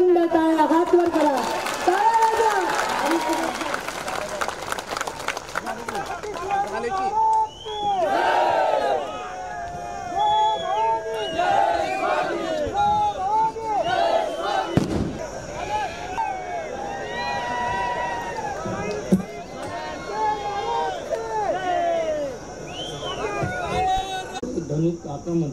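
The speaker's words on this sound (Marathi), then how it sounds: "प्रचंड टाळ्या हात वर करा" A large crowd at a Maharashtra political rally for Udayanraje Bhosale roars and chants continuously, with loud overlapping shouts and cheers filling the whole stretch.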